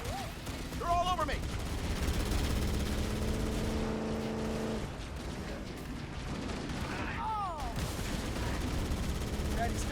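Gunfire rattles almost constantly through a Halo Campaign Evolved battle, dense and layered with engine-like rumble and explosions, while voices shout over the fighting.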